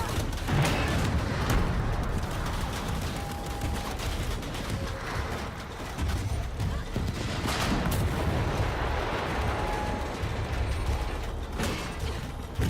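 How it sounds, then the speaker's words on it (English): Dense, continuous gunfire and explosions from the video game Shadow of the Tomb Raider, a loud, sustained barrage of shots and blasts with no talking over it. "A lot of explosions, a lot of bullets"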